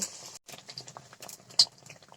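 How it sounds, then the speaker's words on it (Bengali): Potato chops frying in a small amount of oil in a deep pan, giving an uneven crackling and bubbling patter with a few sharper pops. "আমার কড়াইটা একটু ডিপ তাই একটু অল্প দিয়ে ভেজে নেব"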